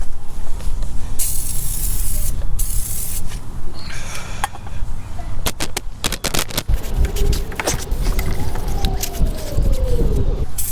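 Aerosol can of PB Blaster Surface Shield rust protectant hissing in repeated bursts as it coats a car's underside for winter, close and loud, with scraping and handling noises between sprays.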